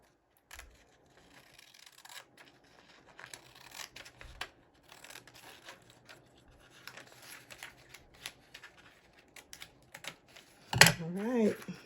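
Scissors snip paper to trim an extra page being added to an Aura Estelle B6 notebook, a run of quiet, close, irregular cutting and rubbing sounds, ending with a brief louder burst of voice.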